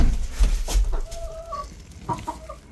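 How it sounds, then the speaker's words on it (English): Chickens cluck softly nearby, with a few short murmured calls and rustling in the background. "See if my chickens laid me any eggs today."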